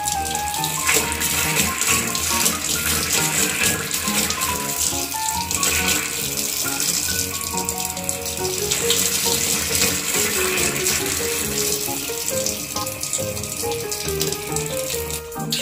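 Water gushes steadily from a shower tap, a continuous hiss and splash with rattling undertones lasting throughout, close by and alone.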